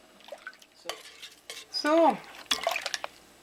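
Homemade Jamaican carrot juice strains through with a wet dripping trickle as a utensil clinks and scrapes against a bowl, close up, while a voice briefly speaks.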